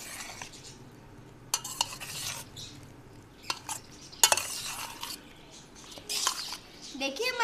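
A spoon folds fried pakoras into yogurt with apricot chutney in a bowl. Soft, quiet scraping and occasional light clinks come in irregular bursts against a faint background.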